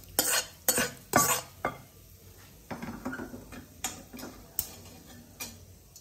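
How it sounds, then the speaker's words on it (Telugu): Brinjal pickle being mixed into rice in a metal vessel, with a spoon clinking and scraping against the pot in a run of sharp, close knocks, louder early and softer later, with no voices. "ఇప్పుడు మనం పచ్చడి కలుపుకుందామండి."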